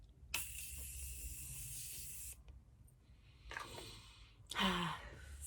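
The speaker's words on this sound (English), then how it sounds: "I'm going to go ahead and set my face using the Morphe Continuous Setting" Morphe Continuous Setting Mist is sprayed onto a face in three close hissing bursts. The first is a long, continuous spray and the last two are shorter, with quiet pauses between them.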